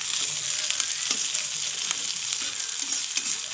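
Onions frying in a pan for mushroom curry give a steady, close sizzle with occasional stirring clicks throughout.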